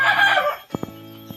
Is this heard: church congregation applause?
no